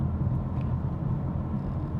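Low, steady diesel rumble from a BMW 435d xDrive Gran Coupe, a gruff tractor-like drone, even and moderately loud for the full stretch.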